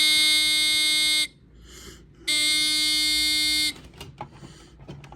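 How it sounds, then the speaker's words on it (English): A loud, steady electronic buzzer from a Chloride Pyrotector 3077ARF5 smoke alarm sounds twice, each blast lasting over a second with a brief pause between, then cuts off to quiet rustling. "And then the sound was distant too of the buzzer."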